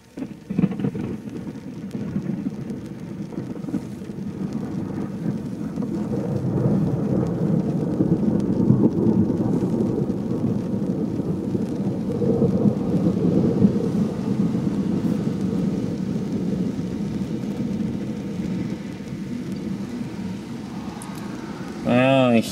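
A long, low rolling rumble of thunder from a lightning strike about 50 meters away, more a tearing sound than a loud bang, with steady rain noise underneath, sustained and fairly loud throughout.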